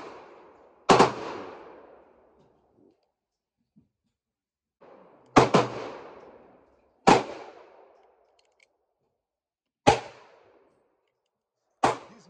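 An XDM 10mm pistol fires 180-grain rounds at a shooting range: five sharp, loud gunshots, irregularly spaced over about twelve seconds, each followed by a brief echoing decay, with no talk.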